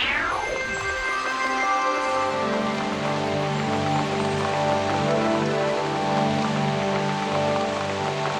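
Steady cartoon rain pours continuously with a dense patter, set against bright sustained music tones, without clear speech.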